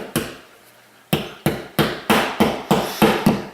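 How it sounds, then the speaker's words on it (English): Sharp hammer strikes drive anchors into pre-drilled holes in a board temporarily mounted by a door jamb for a grab handle: a lone blow, a pause, then seven quick, evenly spaced, loud impacts with no talking. "Now I'm going to put some anchors in."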